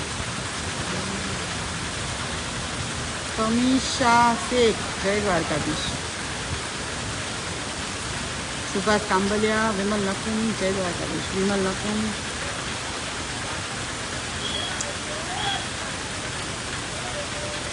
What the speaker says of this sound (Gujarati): સવારથી જ વરસાદ જે છે ચાલુ ને ચાલુ જ છે